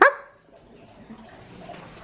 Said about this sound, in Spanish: Es que el otro día estoy intentando enseñarle a ladrar.